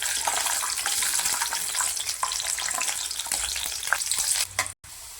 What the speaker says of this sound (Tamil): இப்போ ஒரு 5-6 பல் பூண்டு போட்டு பொரிச்சு எடுத்துக்கலாம்.